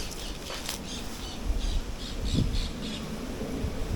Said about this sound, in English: And we can hear the parrot there.